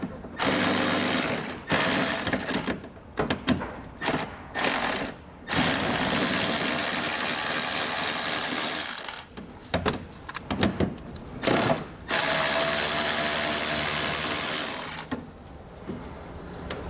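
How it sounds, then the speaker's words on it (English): A ratchet with a socket backs a 7mm-head screw out of the front fascia of a 2019 Chevrolet Equinox, giving loud, close, continuous clicking runs broken by several short pauses. "we're going to have a screw with the 7mm head on it. So grab our socket and get that removed."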